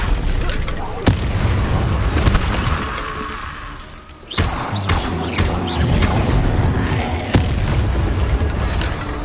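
A fire spell blast in Hogwarts Legacy, heard as a loud booming burst near the start and another mid-clip, set over a dense, continuous rumble of combat and effects.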